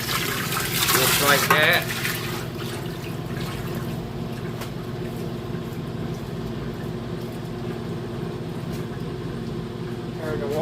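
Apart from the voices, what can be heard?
water rinsing out an old ringer washing machine tub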